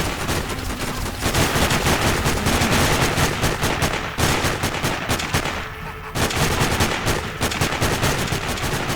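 Rapid bursts of automatic gunfire in the video game Sniper Ghost Warrior rattle almost continuously, loud and close, with a few short pauses between volleys.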